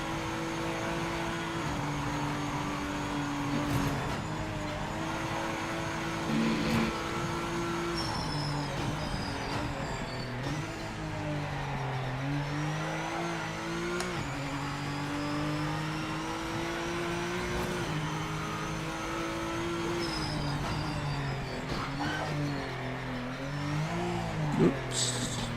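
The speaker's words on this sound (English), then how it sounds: "I do like all the other little sounds you hear along with the engine." Engine of a 2005 LMP1 prototype race car in the Automobilista 2 racing game at Kyalami, a steady loud drone with pitch rising and falling through gear changes, joined by smaller mechanical sounds.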